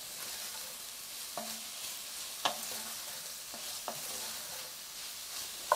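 Chicken sears in a Dutch oven with a faint, steady hiss of frying. A few light utensil taps and clicks break it now and then, and no one speaks.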